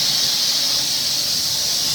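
A pressure cooker whistle gives a steady, loud, high hissing squeal while vegetables or rice cook in a home kitchen, continuous with no pauses and no voices.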